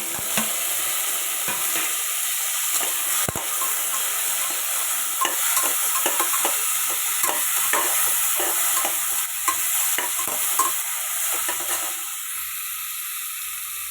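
Tomatoes and onions fry in a pan for tomato bath, giving a steady loud sizzle and hiss with frequent scraping ladle strokes throughout, close up, easing slightly near the end, with no voices.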